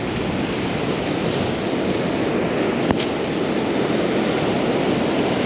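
Ocean surf breaking on a beach during a surf fishing outing, a steady loud roar of waves with wind rumble throughout, no voices.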